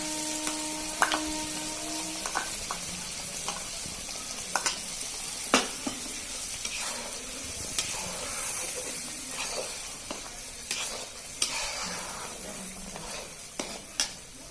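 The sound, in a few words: frying garlic paste and spices for mustard fish curry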